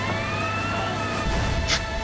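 A police car siren wails in Grand Theft Auto San Andreas, its steady rising tone sounding over a rumbling vehicle engine.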